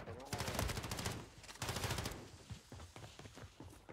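Rapid automatic gunfire bursts in Warzone 3 rattle loudly through the first half, followed by scattered, sparser shots and in-game noise; no one speaks.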